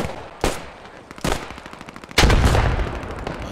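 Gunfire in the World War II game Post Scriptum during a night squad mission, with three sharp, loud shots spaced apart, the last followed by a longer rumbling tail.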